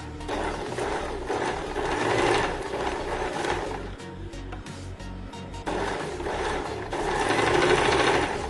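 Sewing machine stitching piping on a kurti, a steady close mechanical rattle running throughout with slight swells in loudness.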